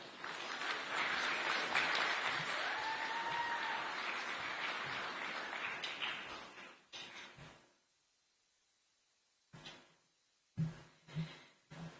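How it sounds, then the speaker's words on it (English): An audience at a conference on children's digital safety in Africa applauds the speakers, a dense burst of clapping for several seconds that fades out, followed by a pause and a few scattered handling knocks. "Let's give our speakers a round of applause"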